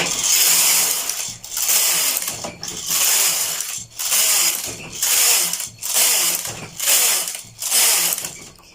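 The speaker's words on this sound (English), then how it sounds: "So I just want to knit a few plain rows" A knitting machine carriage runs back and forth across plain rows, giving seven evenly spaced mechanical whooshing passes with clicking and ratcheting. Brief quiet gaps separate each pass.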